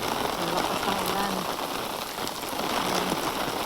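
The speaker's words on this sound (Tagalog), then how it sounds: "Ang lakas ng ulan." Heavy rain during typhoon season in Japan pours steadily onto a surface in a dense, constant hiss, with faint voices underneath.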